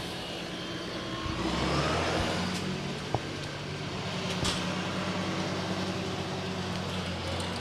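A tractor with a Cummins engine drives past in a parade, giving a steady broad engine rumble and road noise that holds at an even, fairly close level throughout, with a brief sharp click partway through.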